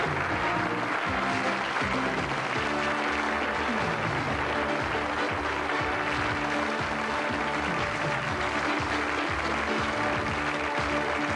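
A studio audience keeps up a dense, sustained round of applause for the winning team of a 1987 quiz final, loud and unbroken throughout with no talk over it.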